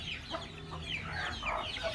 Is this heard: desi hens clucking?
yes